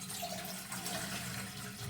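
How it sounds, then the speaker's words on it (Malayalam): Water pours steadily from a tap into a cooking pot for a short, continuous stretch, with a soft splashing hiss and no talking. "ഞാൻ പാത്രം എടുത്തു. ഇതിൽ വെള്ളം ഒഴിക്കണം കുറച്ച്."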